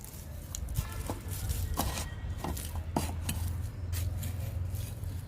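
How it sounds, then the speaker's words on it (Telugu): Garden soil being loosened and mixed with fertilizer by hand around drumstick and bean plants, a steady close scraping and crumbling with scattered sharper clinks and scratches throughout. "లూజ్ చేస్తున్నా రెండు కలపాలండి మట్టిని ఎరువుని"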